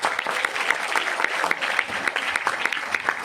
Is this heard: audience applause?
yes